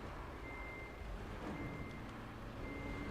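A truck in the Roadcraft video game backs up, its reversing beeper giving a steady, faint tone over a low, rumbling engine drone, with no talk.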